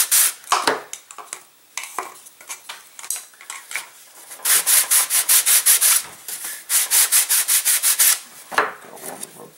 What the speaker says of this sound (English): I'll try and sand off a little bit up here